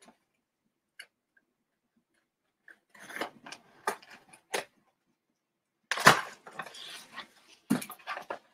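Scissors snipping and slicing through cardboard and tape in short bursts, separated by quiet pauses, close and crisp.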